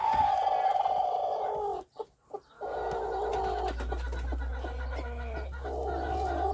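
A broody hen sitting on ducklings clucks and grumbles low and close, with a brief break in the middle, then keeps on over a steady low farmyard hum.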